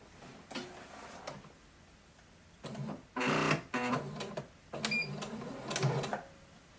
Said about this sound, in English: This seam I can just do a straight stitch because it's just the edge of the pocket